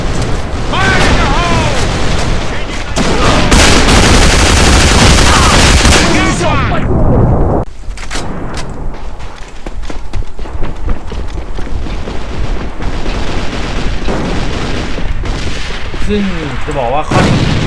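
Rapid bursts of MP40 submachine gun fire in the shooter game A.V.A, loud and dense through the first seconds, then thinner scattered shots and game effects continue to the end.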